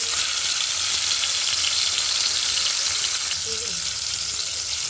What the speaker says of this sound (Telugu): నూనె వేడైంది ఫ్రెండ్స్ ఇప్పుడు చేప పెట్టుకుందాం రెండు చేపలు వేసుకుందాం